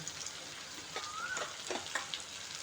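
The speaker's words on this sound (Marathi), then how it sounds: "हे मसाले आता आपण व्यवस्थित असे एक मिनिटभर परतून घेऊ" Ground spices with onion-garlic masala, chili powder and turmeric sauté in a pan for paneer bhurji, giving a soft, steady close sizzle with light scattered pops and no talking.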